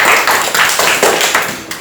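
Classroom applause from students, a steady spatter of hand claps with rhythmic bursts lasting under two seconds, fairly loud and close with no talk over it.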